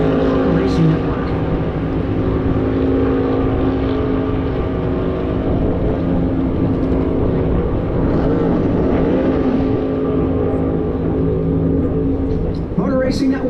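Chase Elliott's race car on a Daytona 500 qualifying lap at Daytona International Speedway, a loud, sustained engine roar that holds steady throughout, with a sharp rising whine near the end.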